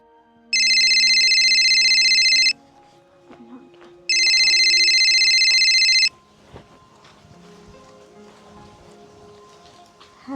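A phone rings in two long electronic bursts, each about two seconds with a pause between, loud and close, followed by quieter room sound and faint talk in a rural Haryanvi home.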